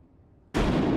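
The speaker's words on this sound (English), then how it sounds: "They're throwing nades down?" A grenade blast in the Apex Legends battle royale game bursts in suddenly after quiet background ambience, a loud, dense explosion that sustains through the rest of the moment.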